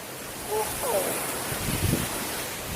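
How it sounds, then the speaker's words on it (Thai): Ocean waves wash onto the beach at Ao Nang in Krabi, a steady broadband surf hiss with a gentle swell, close and fairly loud, while faint voices murmur underneath. "ตอนนี้เสียงคลื่นอาจจะดังนิดนึง"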